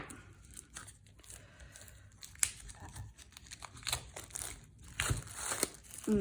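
Plastic wrapping on a tarot card deck being torn and crinkled open, a close, quiet run of crackling and rustling with irregular louder rips.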